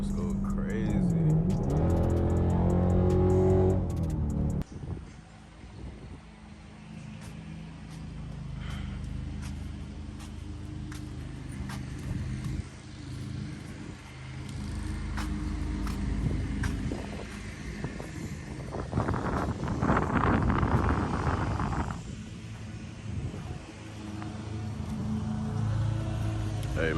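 Straight-piped Dodge Durango engine revving and roaring through gear shifts, loud and raspy from inside the vehicle, with a person talking over it.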